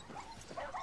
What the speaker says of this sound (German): Oh, die armen Hundchens.